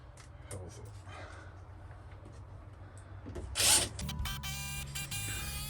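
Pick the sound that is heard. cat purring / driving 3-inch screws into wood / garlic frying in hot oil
driving 3-inch screws into wood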